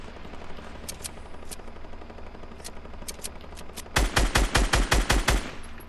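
Fortnite gunfire: scattered distant single shots at first, then a loud, rapid automatic burst of about ten close shots in steady rhythm.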